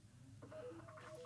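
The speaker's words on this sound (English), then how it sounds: "That's my phone." A phone goes off in a studio during an afternoon talk show, with short electronic tones and beeps stepping through a few pitches, faint and slightly distant over a low room hum.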